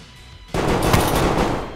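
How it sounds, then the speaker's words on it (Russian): Gunfire in the game DayZ cracks out loudly and close, a sudden burst that rings on with echoing reports for over a second after a quiet lead-in. "два выстрела по мне сделал"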